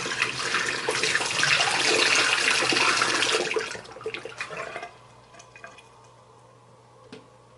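Tap water runs steadily and fairly loud while face wash is rinsed off at a sink, then cuts off, leaving a few faint drips and small clatters in a quiet room.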